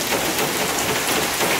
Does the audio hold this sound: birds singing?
no